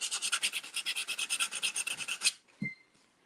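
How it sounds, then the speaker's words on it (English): A sander works paint off the edge of a wooden craft sign, giving a steady rapid rhythmic rasp for about two seconds before stopping with a soft knock, close and loud with no voices. "you can come through with your sander and sand it off"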